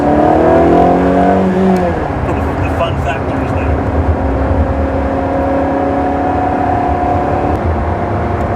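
A Ferrari 360 Challenge Stradale, run without full traction control, gives a steady engine drone that climbs in pitch at the start and holds under a loud, continuous conversation inside the car.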